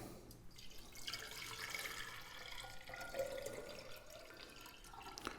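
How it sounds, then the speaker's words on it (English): Tap water running and splashing into a slightly dusty floral container, a steady broadband hiss with a brief trickle partway through, moderately close and without voices. "the first thing we're going to do then is fill this with water"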